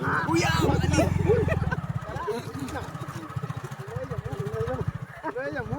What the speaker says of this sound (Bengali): দেখুন আমরা চারজন বাইকে উঠছি আর বিশ্ব বাইকের ট্যাঙ্কির উপরে উঠে গেছে